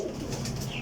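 Domestic pigeons of a long-flight breed coo softly and continuously at close range over a faint, steady background, with no talk.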